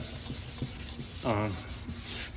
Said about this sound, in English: all sanded with 320